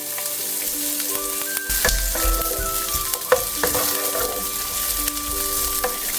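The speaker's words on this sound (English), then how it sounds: "And now we're going to throw in the garlic and onions." Garlic and onions fry in olive oil in a deep frying pan, giving a loud continuous sizzle with a few stirring knocks and no voices.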